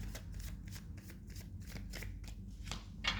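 Tarot cards shuffled up close in a quick series of crisp riffling bursts, repeating steadily with short gaps between them.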